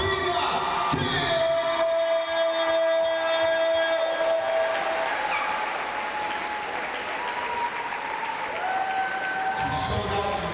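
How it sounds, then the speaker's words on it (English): Applause and crowd noise in a gym honoring the league MVP at a HoopQueens championship basketball game, steady and continuous, with tones and other hall sounds mixed in and fading slightly toward the end. "I want you guys to start with a round of applause"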